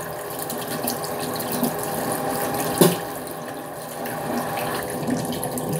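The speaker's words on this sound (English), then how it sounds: "Rinse out your toothbrush." A bathroom tap runs steadily while a toothbrush is rinsed under it, a close, continuous hiss and splash of water with a brief sharper clatter midway.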